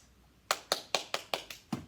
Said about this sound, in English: Trying to see how many claps you can get.